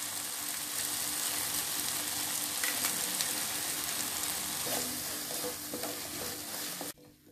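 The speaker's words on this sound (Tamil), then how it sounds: "மிளகா சேர்த்து நல்லா வதக்கிக்கோங்க." Onion, tomato and dried red chillies sauté in a pan for tomato chutney, making a dense, even sizzle with faint stirring scrapes before it suddenly stops.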